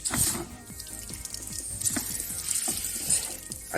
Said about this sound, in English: You know what, maybe if I actually turn the tap on a bit more.